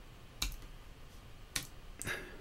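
Computer keyboard typing, a few sparse, faint key clicks spaced unevenly across a quiet background.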